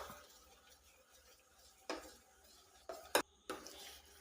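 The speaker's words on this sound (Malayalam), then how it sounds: "നല്ലവണ്ണം മിക്സ് ചെയ്ത് കൊടുക്കാം." Stirring mango puree into milk for pudding, with quiet scraping and a few sharp clinks of a utensil against the bowl, near and sparse, no voices.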